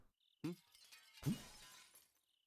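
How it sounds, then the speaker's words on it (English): In a video game, something shatters in a kitchen: a sharp breaking hit followed by a louder crash with a short scattering tail, faint and close, with brief quiet before and after. "As I pass the kitchen on my way to the bath, I hear something shatter inside"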